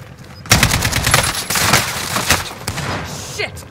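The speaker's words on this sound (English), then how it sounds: "I'm taking fire!" Rapid automatic gunfire from a shooter video game, Call of Duty Rebirth, bursts loud and close in dense volleys after a brief quiet start, with a few pauses between strings of shots.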